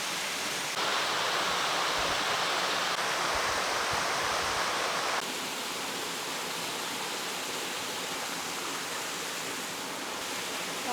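A steady, roaring rush of a waterfall blends with a flowing mountain stream on Bukhansan, South Korea, in the rainy season, constant and full, shifting slightly in level partway through.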